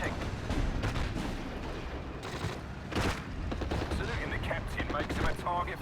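Battle in Steel Division: Normandy 44 with commando tank-buster infantry firing, dense overlapping gunfire and heavy bursts rolling continuously, with louder volleys near the three-second mark.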